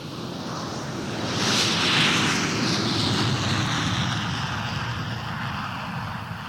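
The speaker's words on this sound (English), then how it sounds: "That monster was the Boeing 707, the largest plane in the world" A Boeing 707 jetliner flies past with a broad, rushing engine roar that swells to a peak early on and then holds as a steady, loud drone.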